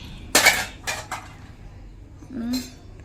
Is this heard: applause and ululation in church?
no